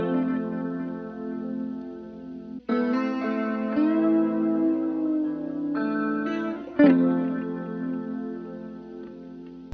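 An electric guitar lead line through a Guitar Rig preset, with sustained, effect-heavy notes soaked in chorus, distortion and echo, bending and shifting over about ten seconds with a couple of sharp attacks.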